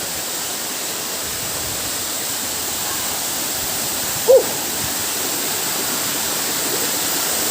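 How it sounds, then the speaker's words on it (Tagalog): Purikot Falls, a waterfall tourist spot in Libmanan, roars as a steady, even wash of rushing water with one brief small click partway through and no talking. "Yan ang taas ng falls nila."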